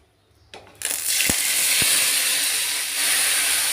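Dough for patori dropped into hot oil, a quiet start giving way to a loud, steady hiss and sizzle of frying that carries on, with a couple of brief clicks near the start.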